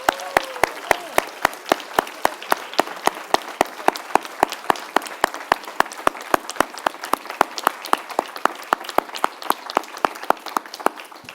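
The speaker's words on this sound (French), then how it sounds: "je voudrais simplement qu'on vous applaudisse pour tout ça." Slow, evenly spaced clapping at the close of a conference, with single crisp claps at a regular beat and a brief tonal sound near the start.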